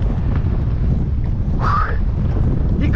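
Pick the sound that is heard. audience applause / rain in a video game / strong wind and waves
strong wind and waves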